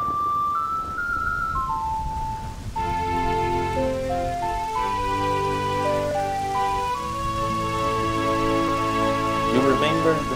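Rain summoned by a song in the video game Zelda: Majora's Mask, a soft steady patter of rainfall running throughout beneath a bright melody of sustained musical tones.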